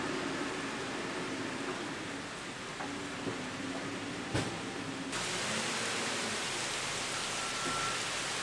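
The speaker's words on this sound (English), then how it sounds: "Rain's coming down pretty good." Heavy rain from a storm sitting overhead during street sewer line work, a steady hiss that stays fairly faint and distant throughout, with a brief knock partway through.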